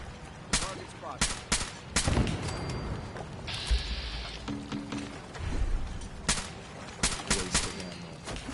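Repeated bursts of gunfire in Fallout 4, with sharp shots scattered across the scene, some in quick clusters, over a busy game soundscape with mechanical clanks and brief electronic tones.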